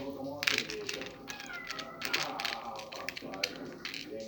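A cat meows several times close by, short, loud cries scattered through the clip, while someone talks over it and light tapping clicks sound nearby.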